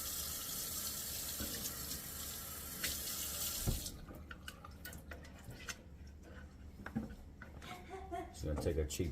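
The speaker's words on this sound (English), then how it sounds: "I'm gonna get some water here in the sink." Water runs from a tap into a sink, a steady rushing stream that cuts off partway, followed by scattered clinks, drips and a voice nearby.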